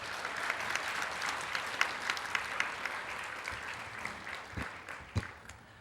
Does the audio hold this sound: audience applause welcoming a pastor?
yes